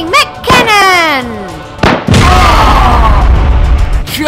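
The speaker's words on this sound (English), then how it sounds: "Firing mech cannon." A mech's cannon fires in a LEGO Ninjago video game. A loud boom cuts in, followed by a sustained roaring, crackling blast, with a descending synthetic whine and short bursts just before it.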